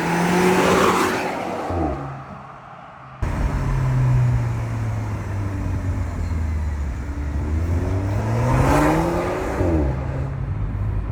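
An Audi A4 2.0 TFSI Quattro with four active exhaust tips and a deleted rear silencer revs hard, its engine note rising and falling in loud, close sweeps with a brief lull partway through.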